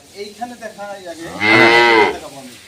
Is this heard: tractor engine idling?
no